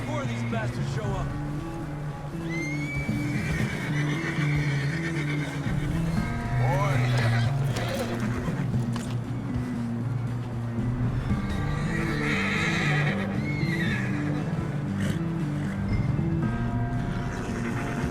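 A horse in the video game Red Dead Redemption 2 whinnies loudly several times over galloping hoofbeats and rumbling background sound, with voices talking at points.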